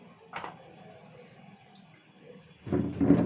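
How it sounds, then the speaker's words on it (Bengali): Cold water from a clay pot poured into a bowl, a light trickle and faint drips before a louder, fuller splash of pouring near the end. "তো আমি প্রথমে একটু জল নিয়ে নিচ্ছি ঠান্ডা জল এই হাফ বাটি মতন ঠান্ডা জল নিয়ে নিলাম"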